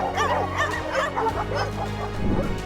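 A dog barks and yips several times in quick bursts, fairly close, with whimpering whines mixed in and a low hum underneath.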